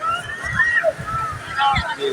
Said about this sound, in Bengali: আর যে ঢেউগুলো আছে পরে কত বড় বড় ঢেউ দেখেন